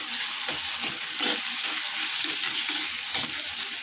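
Onions and tomato sauté in a pan for Chettinad chicken, a steady close sizzle with faint scraping stirs recurring throughout, no voices.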